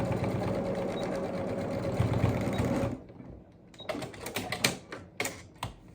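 A sewing machine stitches back and forth across a headband, a steady close mechanical whir that stops abruptly midway, followed by clicks and handling noises.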